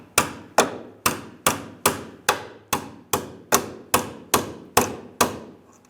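Hammer tapping out a rear strut bolt on a 2003–2011 Honda Element, a run of about thirteen sharp metallic strikes at a steady rhythm, close and loud, each ringing briefly before the next.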